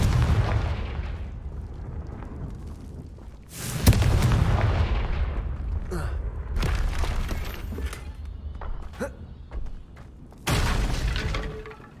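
Confringo fire spell explosions in Hogwarts Legacy, with loud booming blasts and crackling debris, a sharp burst near four seconds and another near eleven, over a rumbling game soundscape.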